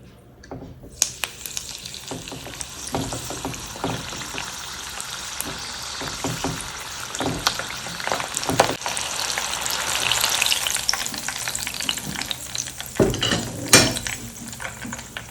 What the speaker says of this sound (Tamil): அதை ஆயிலில் டிப் பண்ணி அதை வழியாக பொரித்து எடுத்துப்பேன்.